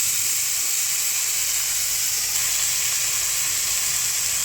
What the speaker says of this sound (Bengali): এবার দেব আমি 2 চামচ আদা, রসুন, কাঁচা লঙ্কা পেস্ট